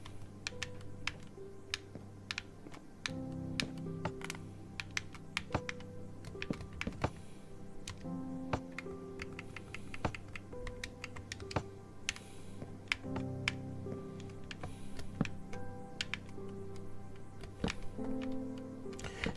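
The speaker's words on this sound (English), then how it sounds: "I've got the keyboard sitting in front of me" A computer keyboard clatters under continuous close-up typing, with rapid uneven key clicks over soft game music, and no one speaking.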